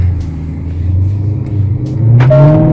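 A Range Rover engine rumbles close by at a low idle while reversing, then revs up as the vehicle pulls away. The pitch climbs near the end.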